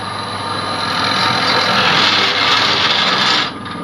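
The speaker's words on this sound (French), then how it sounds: "En l'occurrence, on va percer à 40 mm." Wood being drilled out to 40 mm while turning a bowl on a lathe, a loud steady rasping whir close up that swells through the cut and drops off near the end.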